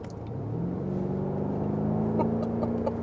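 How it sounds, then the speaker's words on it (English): BMW M5 engine in sport mode with dynamic stability control, surging as it builds power: a steady, rising engine drone and rumble heard from inside the car, with no talking. "you just get this instant surge of power"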